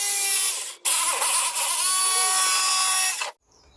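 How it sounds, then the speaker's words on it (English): A jigsaw fitted with a poor blade cuts through a plastic sheet salvaged for a scrap-built greenhouse, giving a loud, steady buzzing whine with one short break near the start. It stops abruptly just before the end. "I've not got the greatest tool to cut this plastic up, but I have got this jigsaw, but the blade's not the best."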